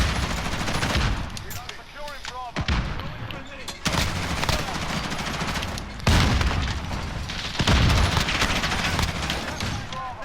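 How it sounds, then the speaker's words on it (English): Call of Duty Modern Warfare multiplayer match, dense bursts of rapid gunfire and sharp explosive booms, including a grenade blast, loud and continuous with brief gaps, while a player talks over the action. "I'm going to throw a grenade past it because people are already there."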